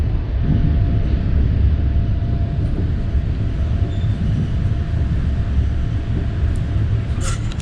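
A train rolls steadily along the tracks with a continuous loud rumble and rattle, heard up close, with a brief squeal near the end.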